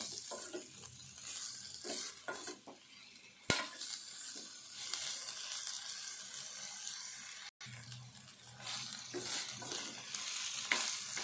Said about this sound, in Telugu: ఈ ముక్కలన్నీ వల్లుగా కావాలి, అవి దూరగా వేగాలి.